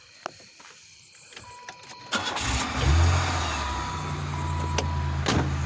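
A '95 Buick Regal GS with a cleaned crank sensor cranks briefly and catches, its engine surging up before settling into a steady close idle after a few faint clicks.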